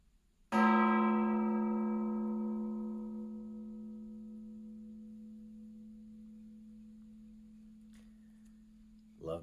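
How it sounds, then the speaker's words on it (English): A gong is struck once at the start of the day, giving a loud, close hit whose rich, ringing tone sustains and slowly fades over several seconds. "Love to start off the day with a nice gong hit."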